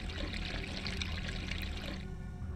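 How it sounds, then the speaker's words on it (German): Water draining away in the video game Resident Evil Code Veronica X, a steady rushing, gurgling flow that runs for a couple of seconds before tapering off. "So, dann lassen wir mal das Wasser ab"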